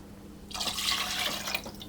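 Water is poured into a saucepan in a home kitchen, a steady splashing, filling rush that starts abruptly and continues close by without talk.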